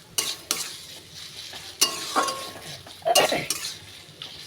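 Hilsa fish head and taro greens sauté in a pan, a soft, continuous sizzle punctuated by several sharp scrapes and clacks of a spatula stirring against the metal at an uneven pace.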